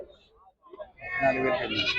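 Goats bleat loudly and repeatedly at close range at the Gudur livestock market, following a quieter stretch with faint sounds.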